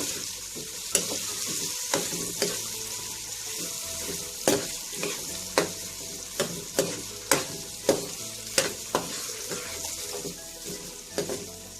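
Riceless fried rice with shrimp being stirred in a frying pan: a steady sizzle runs throughout, broken by repeated sharp utensil scrapes and taps at a regular, fairly quick rhythm, close and clear with no talking.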